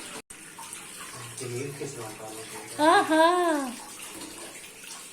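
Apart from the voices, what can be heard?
washing liver and tripe under running tap water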